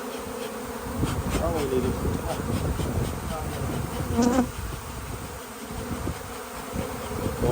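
A large swarm of honeybees drones in a continuous, close buzz during a hive rescue in Kaneohe, Hawaii, with people talking over it and occasional louder bursts.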